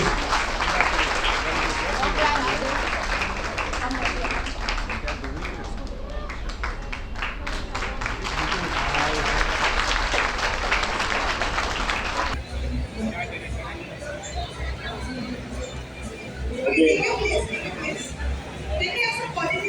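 Loud audience applause and cheering greet a national-level MMA gold medalist at a fight event, dense clapping for about twelve seconds before easing into crowd chatter and scattered claps, with a voice speaking over it.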